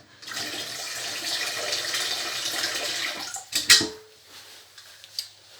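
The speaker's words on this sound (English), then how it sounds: "I think I should fill that with some more water" Running tap water pours steadily into a pasta pot for about three seconds, then stops with a few clunks and handling sounds of the pot afterward.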